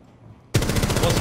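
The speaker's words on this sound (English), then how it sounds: "It was a shotgun, so there is that spray." Silence, then a sudden burst of rapid shotgun fire in the video game Rainbow Six Siege, dense, crackling blasts continuing to the end.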